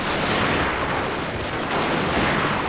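Naval bombardment in the Total War: Shogun 2 video game, a dense, continuous roar of cannon fire and explosions blending into a loud, rumbling wall of sound.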